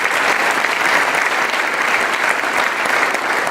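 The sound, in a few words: applause for graduates at a ceremony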